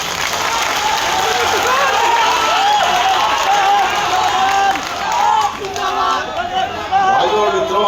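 A large crowd at a political rally in Muzaffarpur applauds and cheers, a loud, continuous roar of clapping with shouted voices and chatter mixed in, dipping briefly before swelling again.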